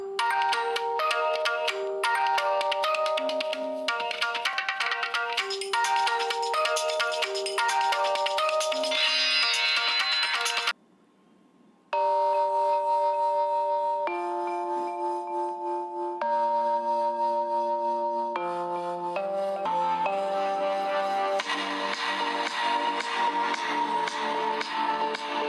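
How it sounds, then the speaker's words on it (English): A Realme X phone's bottom-firing external speaker plays a bright, melodic ringtone loudly for about 25 seconds, with a brief near-silent gap before the tune resumes with a new phrase. "Moving on with the sound test to check the audio quality and loudness of the bottom firing external speakers"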